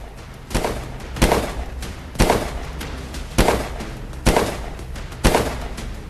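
Six sharp gunshots crack out one at a time at roughly even intervals, each loud and abrupt over a low background hiss.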